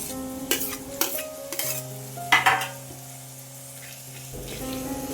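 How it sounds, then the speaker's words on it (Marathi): A spoon stirs softened onion and finely chopped half tomato in a pan for methi bhaji, giving several close scraping strokes over a low, steady sizzle with a faint background hum. "छान आपण हे हलवून घेऊया"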